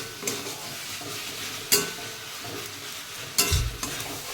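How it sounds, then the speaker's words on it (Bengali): Banana flower curry is stirred with sugar and garam masala in a pan, producing a low sizzle broken by a few sharp scraping clatters of the spoon against the pan. "এখন একটু চিনি আর একটু গরম মশলা দিয়ে একটু নাড়াচাড়া করি দুই এক মিনিট"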